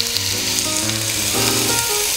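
Onions, celery and carrots frying in oil, a dense close sizzle and crackle that holds steady and loud, with faint tonal background hum and no voices.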